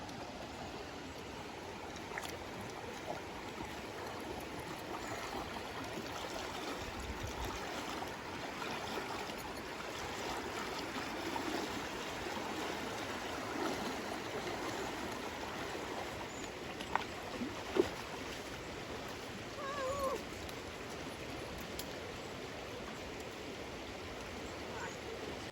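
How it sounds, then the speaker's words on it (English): A flowing river heard while someone wades across it in river shoes, with a steady broadband rush of moving water close by, continuous and even throughout, and a few faint splashes near the end. "this is a flowing river"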